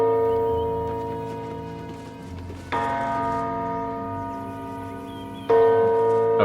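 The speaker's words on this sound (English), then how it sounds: "Let's ring the bell. I'm a bell ringer." A temple bell rung in Baldur's Gate 3 inside the Open Hand Temple: two loud, resonant strikes a few seconds apart, each ringing with a long, slowly decaying tone.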